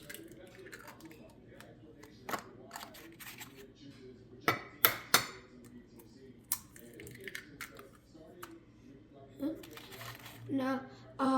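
Forks and dishes clink sparsely while eggs are prepared for scrambling in a home kitchen, with several sharp metallic taps and clinks scattered through a quiet background, and a voice talking intermittently.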